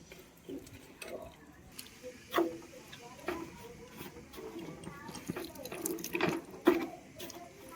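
A little water is poured and handled while preparing sago dough, giving faint, intermittent splashes, trickles and small knocks in a quiet room.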